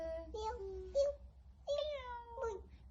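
A voice imitates a cat, drawing out several rising and falling meows in Turkish-speaking family play, close and clear.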